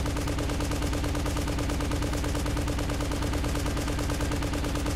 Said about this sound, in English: Vulcan chain gun.